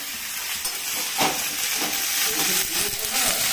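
Bhetki fish with taro cooks in a pan in a home kitchen, giving a steady close hissing sizzle with occasional stirring scrapes, and faint voices in the background.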